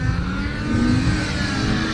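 A Volkswagen Tiguan TSI petrol engine driving through mud on bald tires, a loud steady mid-pitched drone held at constant strain, close and continuous without pauses.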